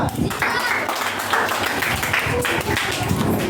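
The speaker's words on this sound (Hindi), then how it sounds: "पूजा के लिए जोरदार तालियां" Spectators at a quiz contest applaud a contestant after a correct answer, a short burst of brisk clapping from a small crowd, with voices mixed in.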